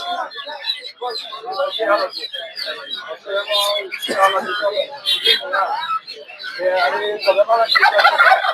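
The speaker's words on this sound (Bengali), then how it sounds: "টার্কি মুরগি দেখতে পাচ্ছেন" Many turkeys gobble in dense, overlapping bursts at a busy poultry and bird market in Putia, Narsingdi, close and loud, while people talk nearby.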